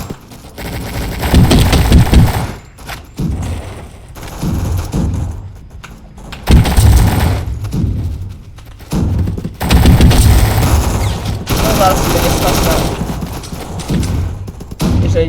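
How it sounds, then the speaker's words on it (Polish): Grenade blasts and rattling gunfire in the Roblox war game RollingThunder, loud repeated bursts and booms arriving in waves with short lulls between them, close and dense throughout. "Rzucił tam granat, tam granat. Tego kolegi się pozbądźmy i tam granat."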